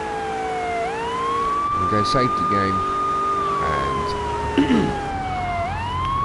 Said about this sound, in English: We're going to get the police car.